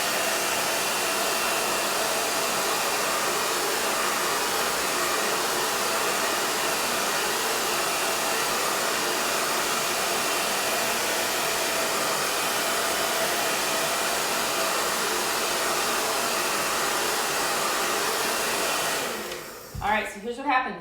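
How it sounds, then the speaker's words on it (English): A hair dryer set on hot blows in a steady, loud, unbroken whoosh over a furniture workbench for nearly the whole stretch, then cuts off near the end, leaving brief faint handling noise. "I'm gonna put my hairdryer on hot, so you guys are gonna have a little bit of noise"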